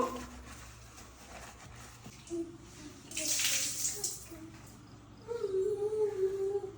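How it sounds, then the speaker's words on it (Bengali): A soaked shirt is rubbed by hand in water, giving soft wet swishing and sloshing, with a louder splashy burst midway and another near the end against a quiet room. "এইভাবে হালকা হাতে এইভাবে ভালো করে রাব করে নেব"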